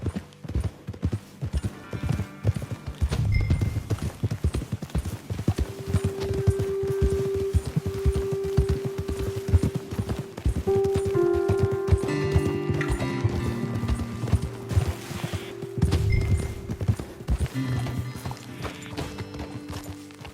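Horse hooves in Red Dead Redemption 2 clip-clop in a steady trotting rhythm with occasional snorts and whinnies, set against a low ambient music bed.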